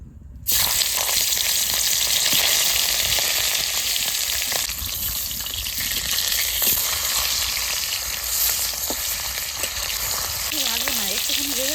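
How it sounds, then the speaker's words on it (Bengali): Hilsa fish head frying in hot oil, a steady, dense close-up sizzle that holds at an even loudness throughout with faint scattered pops and occasional soft background sounds. "তেল গরম হয়ে গেছে হালকা করে একটু ইলিশ মাছের মাথাটা ভেজে নেবো"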